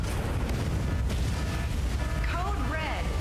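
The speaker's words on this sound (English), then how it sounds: "Explosion in the elevator's midsection." A heavy explosion booms in the Mecha Break video game, a loud rumbling blast followed by sustained roar and rising mechanical whines from an alarm-like source.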